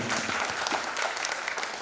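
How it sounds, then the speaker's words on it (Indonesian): Audience applause for someone speaker at a CEO awards event, a dense, steady patter of many hands clapping close by, sustained at an even level without a break. "Boleh kita berikan tepuk tangan ya kepada Ibu ya"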